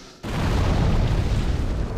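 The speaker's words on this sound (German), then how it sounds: "das komische Vieh da explodiert" A creature explodes in the video game Demon's Souls: a sudden loud explosion bursts in after a short quiet moment, then a heavy rumbling roar that sustains to the end.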